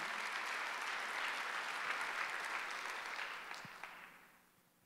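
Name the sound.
congregation applause in church service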